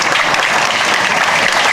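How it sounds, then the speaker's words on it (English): An audience at a G6PD awareness campaign talk claps to welcome a speaker: dense, steady applause at full volume throughout, with no voices over it. "can we all clap our hands as we introduce him?"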